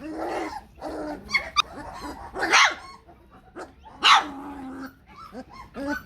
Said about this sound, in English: It's a good bark.